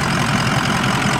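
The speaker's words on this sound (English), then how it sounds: "It idles smooth, revs up nice" A 2006 Ford E-450 Blue Bird Handi Bus engine idling smoothly, a close, loud, steady low rumble with an even hum and no voices.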